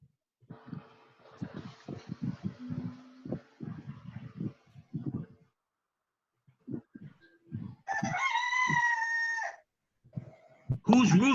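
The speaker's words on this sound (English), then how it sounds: "Whose rooster is that one?" A rooster crows loudly and close by in a long, clear cock-a-doodle-doo, with a second crow starting right at the end, after stretches of talk and other household noise.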